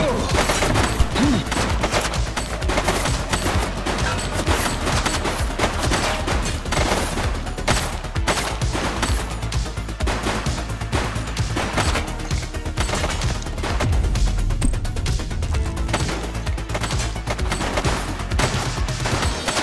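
Rapid gunfire rattles through a police video game, a steady, loud barrage of shots and bursts that runs continuously for nearly twenty seconds.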